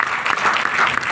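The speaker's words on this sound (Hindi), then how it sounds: "आपके लिए भी एक बार जोरदार तालियां, अच्छे से तालियां बजाना" Brief burst of audience applause at a company plan presentation, a dense crowd of hands clapping steadily and fairly close for about a second.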